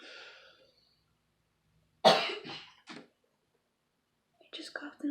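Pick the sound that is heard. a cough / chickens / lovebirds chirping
a cough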